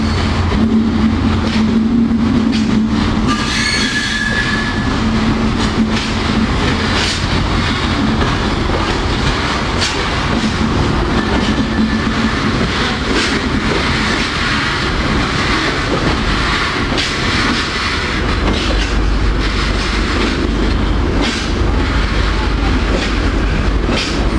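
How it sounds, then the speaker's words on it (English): Three freight locomotives roll past at a railway, a loud continuous rumble of engines and wagons with rhythmic wheel clatter and a brief high squeal, filling the whole span without talk. "3 freight locos in one shot."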